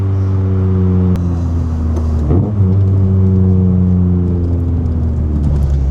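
Rover K-series 1.8 engine in a Lotus-swapped Metro revving steadily, a loud low drone with a brief blip of throttle partway through, close up and with no talking.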